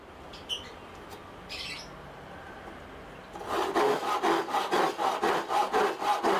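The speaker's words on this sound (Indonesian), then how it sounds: "untuk gergaji runcingnya ini juga buat memotong kayu-kayu seperti ini" A Hasston pointed hand saw cuts through wood in rhythmic back-and-forth strokes, loud and close, after a quieter opening with faint bird chirps in the background.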